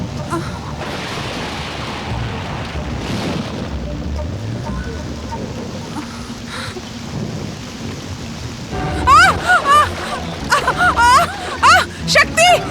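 Steady rain hisses over a low, rumbling background, with a voice speaking urgently over it toward the end.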